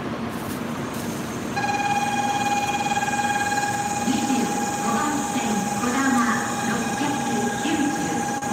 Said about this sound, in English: The train just came.